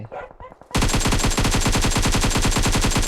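A brief murmur of voices, then sudden loud rapid machine gun fire from a video game bursts out and continues in a fast, unbroken rhythm.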